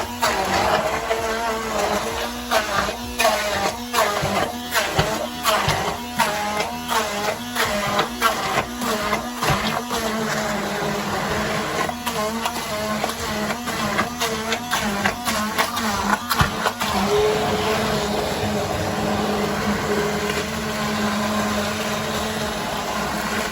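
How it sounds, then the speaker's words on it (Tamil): An electric blender whirs in pulsing bursts as it purées strawberries for jam, the motor noise steady and close, then easing into a quieter continuous hum toward the end. "இப்போ நாங்கள் இந்த ஸ்ட்ராபெரியை நல்லா பிளெண்ட் பண்ணி எடுப்போம்"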